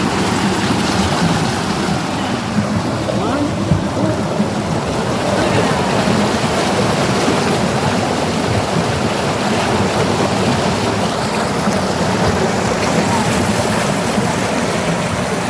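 Water in a clean irrigation canal rushes in a steady, loud, broadband wash, close by, with wind buffeting the microphone.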